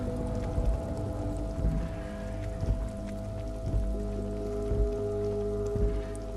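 Steady rain falling at night in the video game Disco Elysium, with constant dense patter over a low droning hum and occasional soft thuds, no voices.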